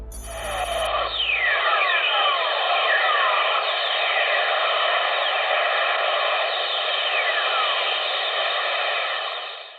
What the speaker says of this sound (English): This is what lightning sounds like on Earth from space as detected by spacecraft above Earth's ionosphere.